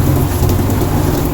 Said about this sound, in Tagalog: talaga napakalakas ng ulan